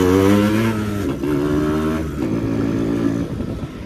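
A Yamaha RX motorcycle fitted with a K&N filter and aftermarket exhaust revs up close by, its loud two-stroke engine rising and falling through several throttle blips that rattle and crackle.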